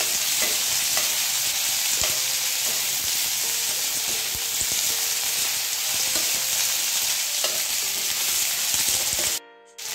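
Finely chopped green chillies stir-fried in a pan, a constant bright sizzle with soft scraping and stirring taps throughout, close and unbroken until a brief cutoff at the end.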